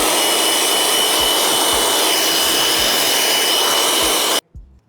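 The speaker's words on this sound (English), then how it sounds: "get the blower out and clean the airbox out" Loud, steady rush of an air blower cleaning out the airbox of an LDV Deliver 9 van, running continuously for over four seconds before cutting off abruptly into near silence.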